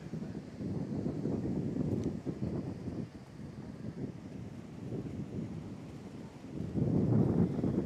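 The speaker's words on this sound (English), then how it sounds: "Windy day here in Michigan City" Gusty wind buffeting the microphone on a windy, rainy day in Michigan City, Indiana, beside the Great Lakes: low, rumbling roar rising and falling in surges, with a stronger gust near the end.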